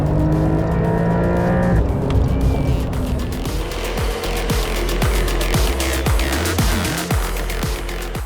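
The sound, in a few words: Porsche sports car driving on Sepang race track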